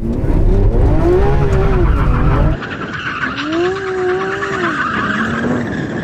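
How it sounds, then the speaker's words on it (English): A Lamborghini four-wheel-drive supercar, a Huracan STO or Aventador SVJ, doing donuts on loose gravel. Its tyres squeal in long wavering tones over a loud roaring engine that drops back partway through, and the skidding squeal carries on alone. "I'm not sure how well you can donut in that because it's four-wheel drive"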